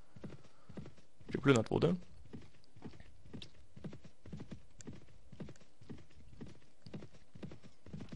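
Horse hooves galloping in the video game Mount and Blade Warband, a steady, quick, rhythmic clip-clop that continues throughout, fairly faint, with a short burst of German speech over it early on.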